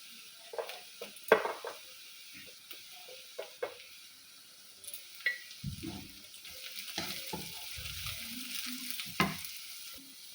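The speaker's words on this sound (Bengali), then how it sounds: "পেঁয়াজগুলো লাল লাল করে একটু ভাজা হয়ে গেলে" Onions fry in a pan for breakfast semolina upma with cashews and nuts, a soft continuous sizzle punctuated by repeated sharp scrapes and clinks of stirring, busier and denser toward the end.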